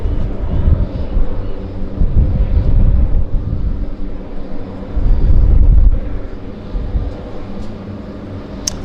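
Float plane at Vancouver's downtown harbour climbing steeply after takeoff from the water, a loud, sustained low engine and propeller roar that swells and fades, with wind buffeting throughout.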